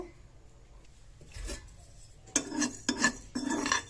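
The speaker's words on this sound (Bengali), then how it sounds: "এটা আমি শুকনো খোলায় একটু নেড়েচেড়ে ভাজা করে নেব" A spoon scraping and stirring black and white cumin seeds as they dry-roast in a wok over low flame, producing short metallic scrapes and rattles in a few quick bursts, with no one talking.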